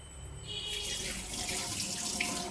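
A kitchen tap turns on and water runs steadily into a sink, building from a quiet start to a full, close, continuous gush with faint splashing, with no voices.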